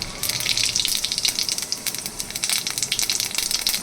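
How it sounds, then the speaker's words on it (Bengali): Cumin seeds crackle and sizzle in hot oil in a pan, a dense close spitting hiss with rapid pops running steadily for a few seconds, no one talking. "এবার এর মধ্যে দিচ্ছি আমি কিছুটা জিরে,"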